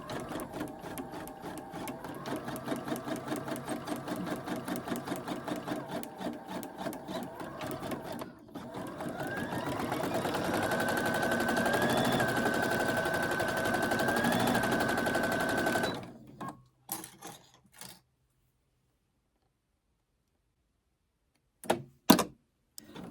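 A Brother single-needle embroidery machine stitches in a rapid, steady mechanical chatter for about fifteen seconds, changing pace partway, then stops, followed by a few isolated clicks and knocks.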